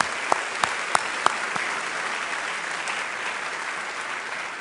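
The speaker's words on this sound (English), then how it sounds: "Give them a round of applause." An audience at a borough address applauds community board members, a sustained wash of crowd clapping with a few sharp, close claps standing out near the start.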